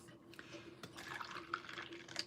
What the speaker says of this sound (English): I'm going to pour me some more Diet Coke or Diet Pepsi.